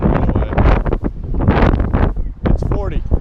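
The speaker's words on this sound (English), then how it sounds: "it just got like very windy out" Strong gusty wind blows across an outdoor flea market, buffeting the microphone with loud low rumbling roar throughout, while people talk close by.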